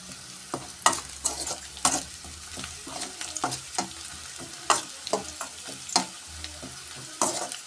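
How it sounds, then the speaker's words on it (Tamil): Carrots sautéing in a pan for prawn noodles, a steady close sizzle broken by repeated sharp scraping stirs of a utensil against the pan, with no talking. "கேரட் ரொம்ப வதங்க தேவையில்ல,"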